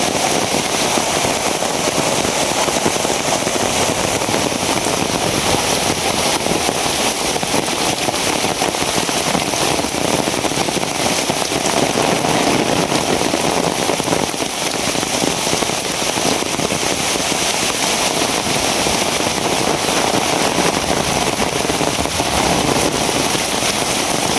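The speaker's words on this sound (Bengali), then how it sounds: "এই দেখেন বৃষ্টিতে কিছুই দেখা যায় না" Heavy rain pours down steadily and loudly for the whole stretch, a dense unbroken hiss and patter with no voices, during a downpour that has knocked out the power at a home.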